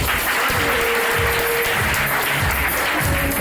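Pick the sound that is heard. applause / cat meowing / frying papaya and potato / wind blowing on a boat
applause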